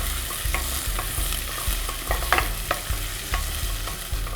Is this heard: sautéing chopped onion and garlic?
yes